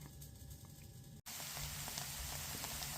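Soy-caramelized food sizzles steadily in a frying pan, a dense crackling hiss close by that drops out for a split second and then resumes alone.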